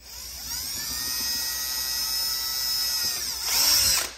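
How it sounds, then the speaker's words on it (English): A high-pitched power drill whines steadily at close range, rising in strain near the end as the bit bites through plastic. "So I'll get my trusty drill, do that, come in where that hole was."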